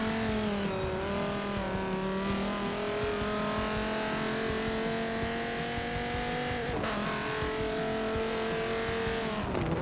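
A race car laps Yas Marina in the Forza Motorsport 7 racing game, its engine holding a steady whine that climbs and dips through the gears, with a brief drop partway through and no speech.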